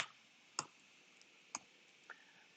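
Sparse computer keyboard typing, a few distinct clicks spaced irregularly, close and quiet against a faint background hum.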